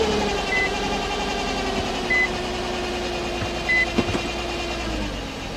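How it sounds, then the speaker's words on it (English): A 2004 Nissan Maxima with a 3.5 engine and a cylinder 1 misfire runs at a steady idle, a continuous low engine drone with faint periodic beeps over it and no talking. "So let's start this vehicle up."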